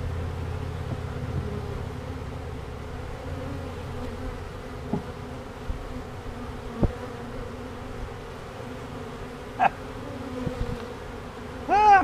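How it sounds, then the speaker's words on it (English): A steady, dense buzzing of many honey bees fills the air, with a few brief louder passes as individual bees fly close by. "There's swarm bees in this one"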